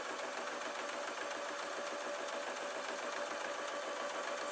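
A sewing machine runs continuously, stitching the top of a fabric tablet sleeping bag, a steady fast mechanical whir with no voices.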